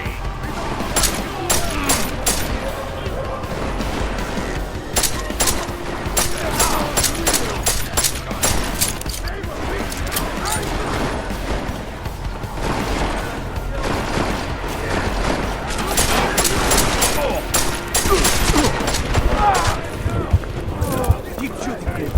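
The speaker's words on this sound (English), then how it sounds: "Keep shooting, kid." Gunfire from the video game Deus Ex: Mankind Divided, with loud, dense bursts of rapid automatic shots and booming impacts that run almost without a break, mixed with game noise and occasional voices.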